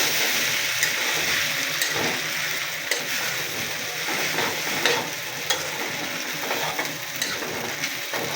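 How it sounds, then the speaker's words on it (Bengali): Pre-boiled noodles stirred and fried in a hot pan, giving a steady loud sizzle with repeated scraping strokes of the spatula throughout. "তারপরে আগে থেকে সিদ্ধ করা লুডুস এখন মিক্স করে দিলাম।"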